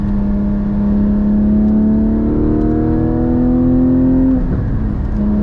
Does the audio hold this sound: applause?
no